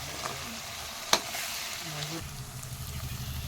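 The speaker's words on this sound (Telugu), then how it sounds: "దంచి పెట్టుకున్న వెల్లుల్లి పేస్ట్ పచ్చిమిర్చి అని పోపులు వేసుకోవాలండి" Garlic paste and green chilies fry in hot tempering oil with a steady close sizzle throughout, broken by one sharp clink of a utensil against the pan.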